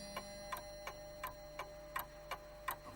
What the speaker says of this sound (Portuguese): O relógio, assinalando cada hora de apreensão, aumentava a tensão